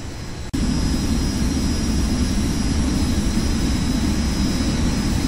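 Jet engine of an Embraer Phenom 100 private jet in the X-Plane 11 flight simulator, a loud steady roar that cuts in abruptly after a brief quieter start and holds constant throughout.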